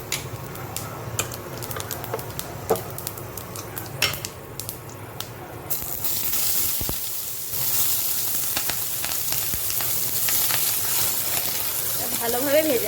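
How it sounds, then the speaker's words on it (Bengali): Dried chillies and five-spice fry in a pan for a prawn curry. Sparse spitting crackles build into a loud, steady sizzle close by, with faint talk at moments. "ভালোভাবে ভেজে নেব।"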